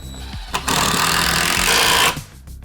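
A power drill drives a self-drilling screw into a garage wall, giving a loud, close, steady whine that starts with a short burst, holds for about a second and a half, then cuts off.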